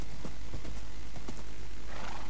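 A horse in a video game gives a short neigh along with the soft clip-clop of hooves, set against a steady bed of game ambience and background hiss.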